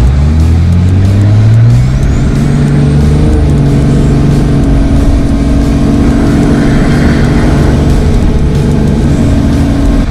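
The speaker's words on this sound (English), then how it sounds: "let's go do 0-60 testing in our new truck" A 12-valve Cummins diesel truck, built to about 500 hp, accelerates hard from a standstill toward 60 mph, its loud engine note climbing through gear changes in a steady, close, continuous roar with no talking.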